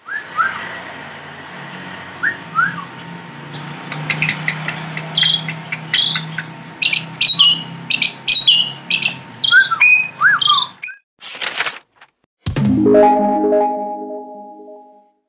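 An Asian pied starling (jalak suren) sings a long, varied run of whistles, chirps and rattling notes, loud and close, with a few harsher calls and a deeper drawn-out note toward the end.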